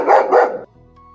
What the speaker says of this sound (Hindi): 2 कुत्ते इधर है, ये 3 कुत्ते, ये खतरनाक है साले